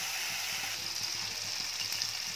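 Mutton pieces go into hot oil and spices in a home kitchen for a Sunday lunch, giving a steady, dense, close sizzle that hisses without a break from start to finish.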